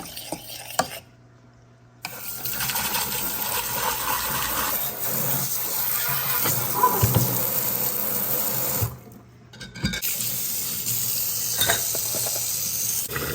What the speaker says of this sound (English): But keep stirring so there's no lumps at all in there.